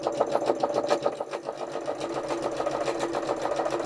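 A sewing machine doing free-motion embroidery stitches at a medium-fast pace, a rapid even mechanical chatter that holds steady throughout, fairly close and alone.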